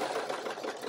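A serger sewing machine runs in a brief, steady whir at moderate level, with no voice present.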